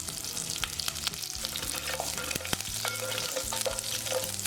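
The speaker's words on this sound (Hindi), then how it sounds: "जैसे ही राई चटकने लग जाएगी" Mustard seeds and curry leaves sizzle and crackle in hot oil over medium heat, a steady close frying hiss dotted with sharp popping bursts and a faint stirring clatter, with no voices.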